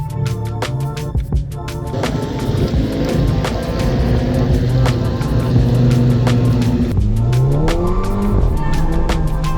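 A Volkswagen Golf R with all-wheel drive runs an autocross course in the rain, its engine revving loud and close through repeated rises and shifts while the tires hiss and squeal on wet pavement.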